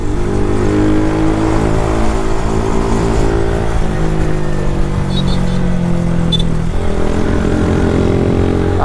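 Honda Start 160 motorcycle with a new sport exhaust, its engine roaring loud and close throughout, pitch rising and falling as it is revved.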